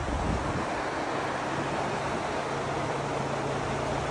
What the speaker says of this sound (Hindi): साथ में नदी बहती है